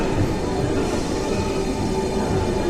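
A Paris metro train pulling into a station, a steady loud rumble of wheels and motor with faint rail squeal, continuous throughout with no talk.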